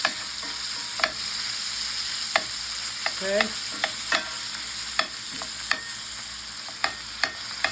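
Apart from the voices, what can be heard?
chopping hamburger meat in cast iron skillet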